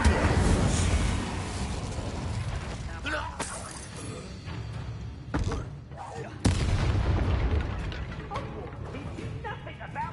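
Booming magical blasts from the Bombarda spell in a video game, with a few heavy explosive impacts and crackling debris, loud and close, mixed with clattering game effects and some talk.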